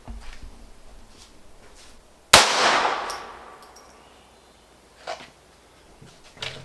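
A single gunshot from a Glock 17 fitted with an Advantage Arms .22 conversion kit, one sharp loud crack followed by a ringing decay, with faint clanks before and after.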